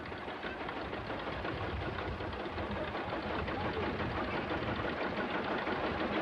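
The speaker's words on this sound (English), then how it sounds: "The tractor was made in England. It's a one-cylinder, two-cycle diesel." An English-made Field Marshall tractor's one-cylinder two-stroke diesel engine runs steadily and loudly up close, a dense continuous rumble with a rough, knocking texture and no talking.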